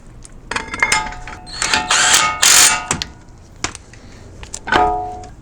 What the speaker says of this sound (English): you can just bolt on the caliper.